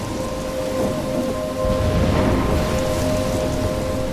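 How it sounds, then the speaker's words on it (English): A thunderstorm with steady heavy rain in the video game Life is Strange, its dense downpour hiss filling the scene while a low rumble of thunder swells midway and lingers, with a faint tonal hum underneath. "I'm trapped in a storm?"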